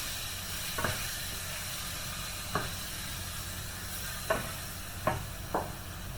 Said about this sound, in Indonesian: ini kita tumis bawang putihnya sampai harum ya, sampai berubah warna juga